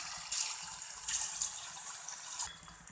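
Pieces dropped into hot oil in a kadai crackle and hiss, with a bright, steady frying sizzle that swells in a few bursts and then eases, heard up close with no talk.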